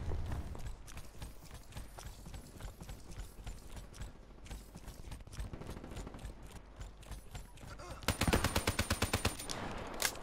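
Gunfire in Call of Duty Black Ops 3 during a team deathmatch, with dense scattered shots and clatter throughout and a loud rapid automatic burst near the end.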